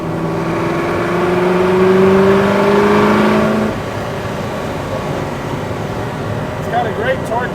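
A Superformance GT40 MKII accelerates, its engine note rising steadily for a few seconds and then dropping away into a lower, steady drone heard from inside the car.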